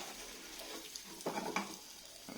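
Eggs cooking in a pan over low heat, stirred with a spoon to keep them moving: a faint, soft sizzle with a few light scraping and tapping strokes, quiet and close, no voices.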